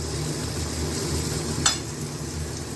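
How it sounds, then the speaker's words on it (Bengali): Hilsa fish head and pumpkin greens being stirred in a hot pan, a soft steady sizzle with scraping strokes and a brief utensil clink near the end, with no one talking. "এবার সবগুলো একসাথে একটু নাড়িয়ে দেবো।"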